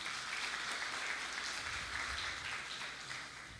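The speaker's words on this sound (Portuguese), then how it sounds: "Palmas para eles." Applause from a church congregation during a live Sunday service, a steady wash of clapping from many hands that stays fairly even and moderately distant throughout.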